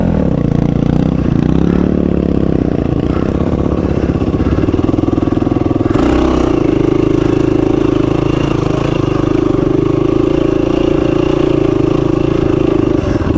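An old Kawasaki KLR motorcycle running at a rally, a loud close engine rumble that idles and then steadies into a firmer, slightly higher drone partway through.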